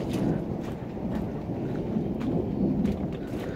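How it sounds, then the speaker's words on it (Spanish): Steady rainfall in the Mixteca mountains of Oaxaca, with a low continuous rumble of thunder under the dense hiss of the rain, close and fairly loud throughout with no talk. "La lluvia de hoy."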